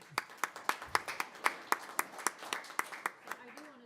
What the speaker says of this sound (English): Just more applause.